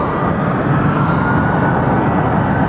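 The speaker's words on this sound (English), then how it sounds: "It's the second most obnoxious airplane in aviation today, departing on high over 2 left." A large airliner climbing out on departure over runway 2 left at Atlanta's Hartsfield-Jackson airport, a loud, steady engine roar that fills the clip without break, heard from a parking deck overlooking the field.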